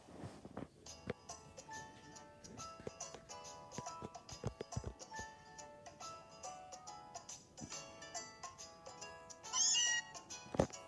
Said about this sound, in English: we're up to the part where Meowth goes and wakes us up